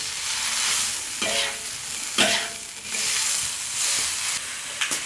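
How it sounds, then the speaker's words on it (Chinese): Stinky fermented bamboo shoots frying in a wok with ginger slices and tomato, a loud steady sizzle and hiss with repeated scraping stirs of the spatula, close up and without talk. "好了，现在可以倒入这个臭笋了。"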